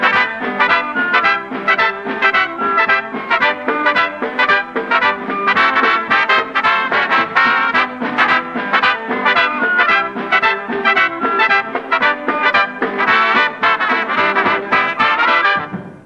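Full orchestral passage with loud, blaring brass playing the humoresque and dominating the texture, the real melody buried beneath it, steady and dense throughout.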